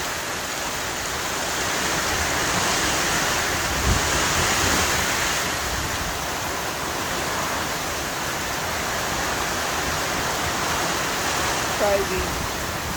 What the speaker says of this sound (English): Look at the water coming off the roof.